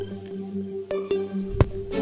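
Water drips inside a cave in the video game Terraria, a few sharp isolated plinks over a steady low game hum, fairly close and moderately loud.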